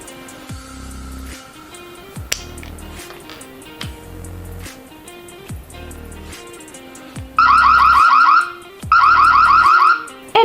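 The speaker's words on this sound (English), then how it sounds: "If the body stays separated from the plate, the anti-theft alarm sounds." An ABETAP doorbell's anti-theft alarm sounds in two loud, rapid warbling bursts after a stretch of quieter beeps and clicks, close and alone.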